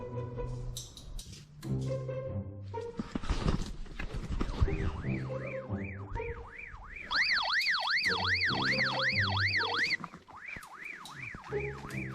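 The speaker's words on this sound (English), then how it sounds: "I'll keep doing the alarm to walk into it" Alarm sounding from a lost radio during an outdoor survival game, a rapid warbling electronic tone repeating in fast cycles, loud and close, following earlier clattering, rustling and knocking.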